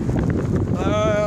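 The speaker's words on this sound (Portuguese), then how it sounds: "Ai, que vento!" Strong wind blowing outdoors across a snowy-then-rainy field at a Canadian college, a rough, gusty rumble buffeting the microphone, with a voice speaking over it.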